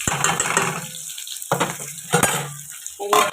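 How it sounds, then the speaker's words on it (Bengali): Potatoes frying in a pan for a spicy fish curry, bursts of close sizzling broken by sharp stirring scrapes and clatters of a spoon against the pan, with quieter gaps between. "আলুটা একটু ভেজে নেবো ভালো করে।"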